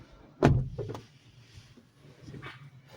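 The rear door of an MG4 EV electric car swings shut with one solid thump, followed by faint rattles and low background noise.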